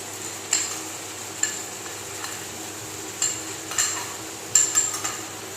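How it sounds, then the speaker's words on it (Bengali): Spice masala fries with chicken in a pan, with a low background sizzle and periodic scraping stirs and light metallic clinks of the spoon, spaced about a second apart. "মশলাটা আমরা ততক্ষণ অবধি কষে নেবো যতক্ষণ অবধি মশলা থেকে তেল ছেড়ে দিচ্ছে"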